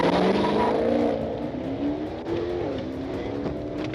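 A car speeds away from a Georgia State trooper on Interstate 675 in Clayton County, its engine roaring loud and close, pitch climbing as it accelerates, with a faint tire squeal and rushing road noise.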